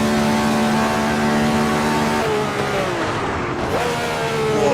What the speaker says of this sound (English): missing the downshift to fourth there